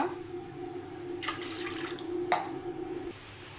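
Water poured into a cooking pan for Bombay rava upma, a couple of short splashing bursts over a steady low kitchen hum, close by and with no talk.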